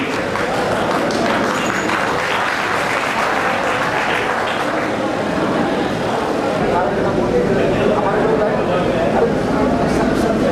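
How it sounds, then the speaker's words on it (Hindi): Crowd applause welcoming a guest at a Pasmanda Muslim community district conference in Sultanpur, steady and dense throughout, with a loud, continuous wash of clapping and crowd noise. "जोरदार ताली से इस्तकबाल कीजिए।"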